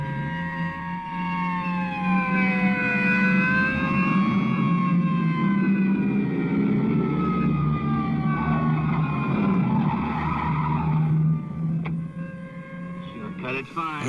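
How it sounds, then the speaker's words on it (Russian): Several state police car sirens wail steadily in wavering, overlapping tones as the cars approach from the hills, riding over a low engine rumble for most of the stretch before briefly easing near the end. "Воем сирен нас не удивишь."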